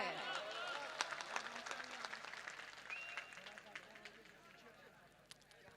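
Audience applause and clapping at an outdoor mushaira poetry recital and national unity conference on a town maidan, a steady crowd patter of many hands that slowly thins and fades with a few sharper claps near the end.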